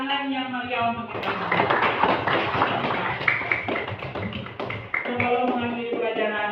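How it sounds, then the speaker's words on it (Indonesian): A classroom of students claps loudly in an Indonesian lesson, a dense burst of applause lasting several seconds, framed by voices speaking and chanting before and after. "tepuk tangan yang meriah untuk kita"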